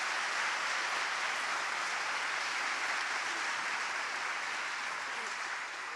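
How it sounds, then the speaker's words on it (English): A graduation audience at a Bath Spa University winter ceremony gives university staff a loud, dense round of applause that fills the hall continuously and fades slightly toward the end. "I'd be grateful if everyone in the room could just give them a round of applause"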